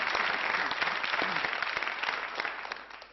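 An audience at a French comedy show applauds throughout, a broad, even wash of many hands clapping at moderate distance that slowly thins toward the end, with a bit of crowd noise mixed in.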